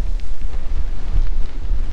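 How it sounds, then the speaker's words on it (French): Strong wind buffets the microphone in an open field during faba bean sowing, a constant low roar, rumbling and gusting throughout with no voices. "le vent, t'as vu comment il pousse, hein?"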